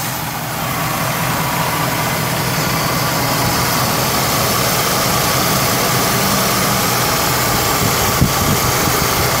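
A 1990 Lincoln Town Car limousine with 38,000 miles idles under the open hood, its engine giving a steady, even rumble with a broad hiss of fan and air conditioning, close and continuous throughout.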